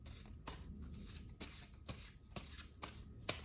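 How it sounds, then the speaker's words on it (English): Jumbo playing cards being shuffled by hand, giving a run of quick riffling and slapping bursts at a steady, regular rhythm, close and soft, with no talking. "Shuffle, shuffle, shuffle,"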